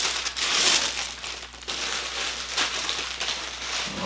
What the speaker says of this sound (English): each shoe is individually wrapped. All right, let's grab one out and let's do an unwrapping.